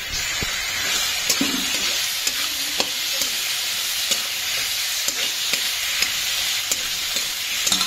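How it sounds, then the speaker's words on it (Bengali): Fried potatoes and tomato frying in a pan, a loud steady sizzle with repeated spatula taps and scrapes throughout, no voices. "ভাজা আলুটা দিয়ে এটা 2 থেকে 3 মিনিট ভালো করে এটাকে ভাজবো।"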